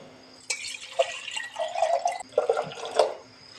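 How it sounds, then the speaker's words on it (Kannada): Water poured into a pot of mushroom sambar, close splashing and gurgling in two bursts with a short pause between, loud over a quiet background. "ಸಾಂಬಾರು ಗಟ್ಟಿ ಇದ್ದರೆ ಇವಾಗಲೇ ಸ್ವಲ್ಪ ನೀರು ಹಾಕಬೇಕು"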